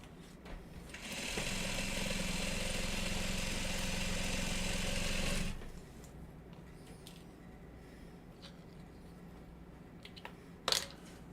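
A sewing machine stitches a bag in a steady close whir for about four seconds, then stops, leaving quiet handling and a few small clicks.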